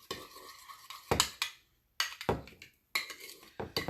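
A utensil stirs popsicle mixture in a bowl, producing repeated clinking scrapes in short bursts with brief pauses between, close and fairly clear.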